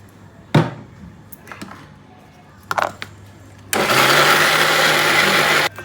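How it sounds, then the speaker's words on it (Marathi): An electric mixer grinder runs loudly and steadily as it finely grinds idli and dosa batter, after a few short bumps and clatters of handling. "बारीक झाले बघा बारीक वाटून घ्यायचं आहे"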